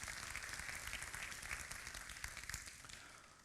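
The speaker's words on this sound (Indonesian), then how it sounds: "Dan tepuk tangan buat Bro Leon di The Overpost." Audience applause at an indoor talk on getting rich through social media, a quiet, continuous patter of clapping from a smallish crowd that thins toward the end, heard alone.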